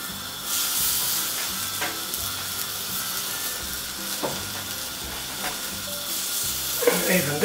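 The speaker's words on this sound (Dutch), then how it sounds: "gewoon even een beetje grillen, klaar" Lamb burgers and onions sizzle on a grill, a steady, close frying hiss with a few soft clinks and pops throughout.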